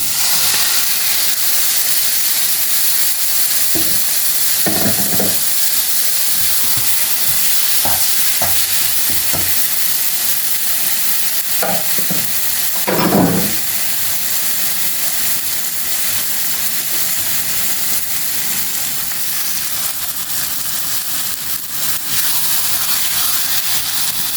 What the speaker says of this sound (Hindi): अच्छे तरीके से हम इसको भून लेंगे।